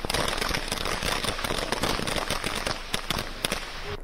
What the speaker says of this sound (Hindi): आतिशबाजी हो रही है